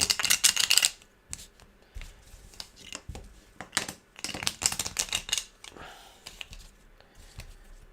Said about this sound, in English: let's shuffle these.